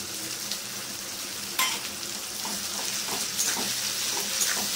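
Mustard, poppy seed and green chili paste frying with tomato in a pan for a banana-stem poppy dish: a steady close hiss of sizzling with a few soft scrapes of stirring, no voices.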